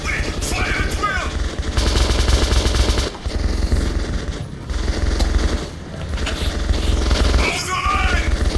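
Sustained automatic gunfire and rifle bursts from a firefight in the Metro 2033 Redux video game, loud and continuous, with shouted voices mixed in amid the shooting.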